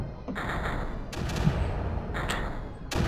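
Mortar fire in Creeper World, a run of repeated muffled thumping shots arriving in clustered bursts, moderately loud against a low, busy game background.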